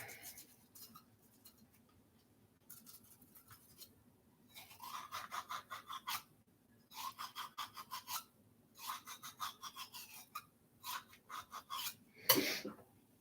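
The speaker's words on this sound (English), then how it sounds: "One of the most important tools you can ever have is your toothbrush. And, of course, it works fantastic on slides as well." A toothbrush scrubs the dump slide on the third slide of a Bach Stradivarius trumpet, with bursts of close, raspy bristle strokes in quick back-and-forth rhythm separated by short pauses and ending in a sharper clatter.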